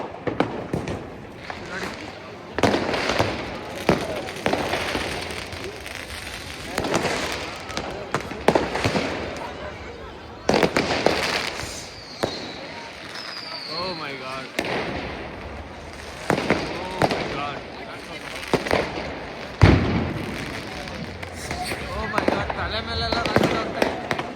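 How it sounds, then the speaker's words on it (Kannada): New Year fireworks and firecrackers burst across a Berlin street, loud irregular bangs and crackling pops following one another close by, while people talk and exclaim throughout. "ಓಲ್ಡ್ ರೋಡ್ನೇ ಪಟಾಕಿ ಹೊಡೆದು ಧ್ವಂಸ ಮಾಡ್ತಾವ್ರೆ"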